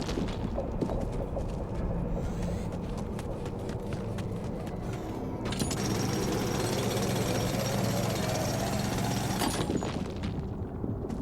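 Metal harvesting in the video game The Alters gives a continuous, loud, rattling mechanical drilling noise with rapid hammering pulses, shifting to a denser grinding roar midway and lasting throughout.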